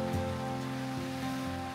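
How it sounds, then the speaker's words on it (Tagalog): Steady rain falls at a lakeside campsite at Lake Tabeo in Kabayan, Benguet, a continuous broadband hiss with a constant low hum underneath and no talk. "Inulan kami dito sa Lake Tabeo."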